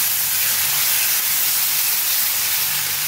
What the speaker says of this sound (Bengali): এখন এই 1 বাটি জল আমি আস্তে করে দিয়ে দেবো